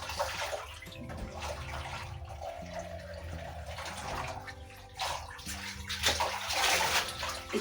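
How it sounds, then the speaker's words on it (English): Jute mallow and cowpea leaves are rinsed in water, giving a continuous splashing and sloshing close by with no talking. "I'm gonna rinse this because I'm gonna use it while washing my vegetables"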